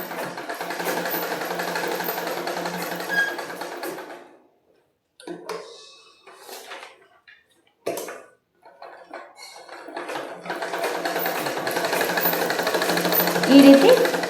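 Sewing machine stitching fabric and pausing at a corner, a steady close mechanical whirr that stops for a few seconds of quiet handling sounds, then resumes and runs on, with speech mixed in.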